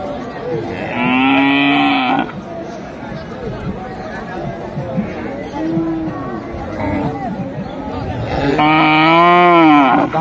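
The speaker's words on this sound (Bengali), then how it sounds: "আপনারা দেখতে পাচ্ছেন একটি দেশি জাতের ষাঁড় গরু।" A native breed bull at a livestock market before Eid-ul-Adha gives two long, loud, drawn-out moos, one near the start and one near the end, with people talking and chattering around it.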